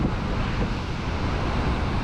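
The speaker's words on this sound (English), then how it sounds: "These waves are monsters breaking on the shore today, folks." Heavy North Sea surf pounds a rocky Scottish shore in a constant, loud roar, smeared by strong wind buffeting the microphone, with no voices.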